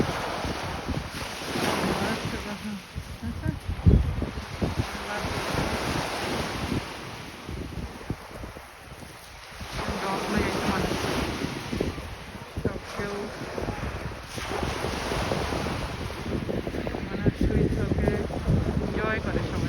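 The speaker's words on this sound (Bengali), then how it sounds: "কি পানির গর্জন!" Sea waves roll and crash on a beach at high tide, a continuous rushing roar that swells and ebbs, mixed with heavy wind buffeting the microphone while people talk now and then.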